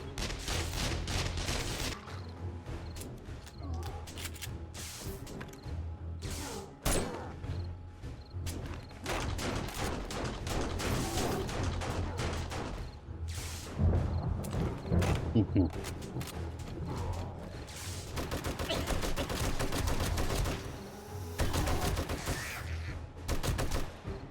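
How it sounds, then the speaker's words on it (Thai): Rapid gunfire from the survival zombie game 7 Days To Die, with dense overlapping bursts and repeated shots across the clip, loud and close over a steady game soundscape, with a voice heard at times. "มา ยิงขาไปเลย"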